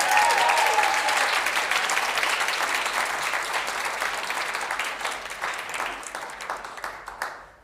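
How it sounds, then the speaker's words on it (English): Concert audience at a music launch event gives a warm round of applause, dense clapping that starts full and gradually thins and fades over about seven seconds. "But do give him a round of applause."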